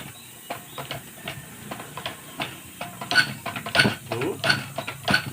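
A 6D14 diesel fuel injector spraying under a pressure tester gives a series of sharp hissing bursts that grow more frequent toward the end, heard close over a steady background hum.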